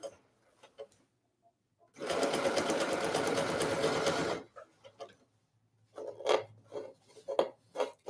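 A sewing machine runs through a seam in one steady burst of about two and a half seconds, close and fairly loud, with quieter handling clicks and short bursts of talk before and after.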